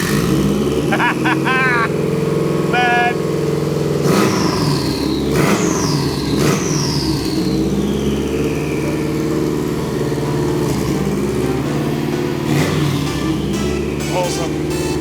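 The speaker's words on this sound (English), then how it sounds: "the car starts" A Haltech-tuned car running on E85 fuel fires up and revs, its loud engine roar and repeated throttle blips running steadily beneath a voice.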